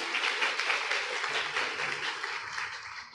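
An audience claps steadily and continuously at a gathering, a dense, even wash of applause that holds at a fairly loud, close level throughout, with no talking.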